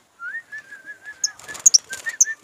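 Birds chirp in a short sequence: a steady warbling whistle-like call is followed by several sharp, high, close chirps in an irregular rhythm, fairly clear against a quiet background.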